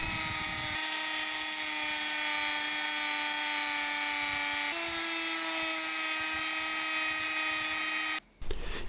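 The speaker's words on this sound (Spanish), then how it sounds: "Ahora llegó la hora de pulir un poco," Lock pick handles made from printed circuit boards are polished, with a steady high whine that shifts slightly in pitch midway and cuts off abruptly near the end.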